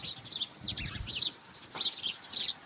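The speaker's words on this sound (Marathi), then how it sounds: "चिमण्या इथं कालवा करतात" Sparrows chatter in short bursts of high, bright chirps, several birds calling back and forth at moderate distance over a quiet background.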